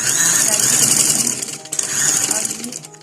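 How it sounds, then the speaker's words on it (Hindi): A sewing machine runs in close, loud bursts of rapid buzzing stitching as the side seams of a kurta are sewn, pausing briefly midway before starting again. "अब हम इसको ये साइड से हम सिलाई लगाएंगे इसकी दोनों साइड से"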